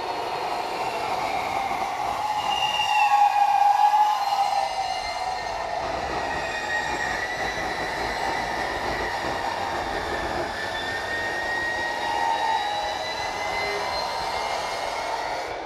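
Loud cutting machine slicing material in a speaker factory, a sustained harsh grinding whine with shifting squealing tones that runs unbroken and close throughout, with no talk.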